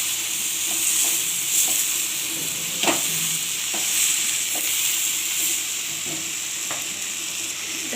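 Red amaranth greens fry in mustard oil with a constant close sizzle and hiss, broken by several light scraping stirs and clicks of a utensil.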